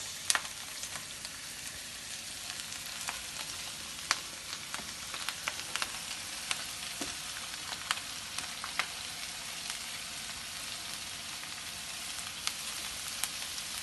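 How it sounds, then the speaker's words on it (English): Cabbage and mixed vegetables fry in hot oil with a soft, even sizzle and scattered small pops and crackles, steady and moderately close. "my oil is ready, so I'll just throw in my veggies, my cabbage, and then I'll let it cook for a bit"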